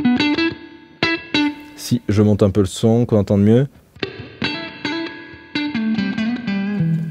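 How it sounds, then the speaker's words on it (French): Electric guitar notes ring out through a spring reverb effect, plucked in short phrases, broken up by someone speaking briefly in the middle. "ça c'est un reverb à ressort normalement"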